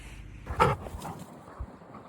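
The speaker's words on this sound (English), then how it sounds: "That was one of the dogs running by" A dog runs past outdoors, a brief close burst of scuffling movement and a faint huff, then quiet.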